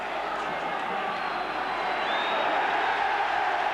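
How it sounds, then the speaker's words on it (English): Stadium crowd at a St Helens versus Australia rugby league match roaring as tackles go in, a sustained broad wash of cheering that swells slightly toward the end, with a commentator's voice over it. "And as the tackles go down, the crowd roar on each occasion"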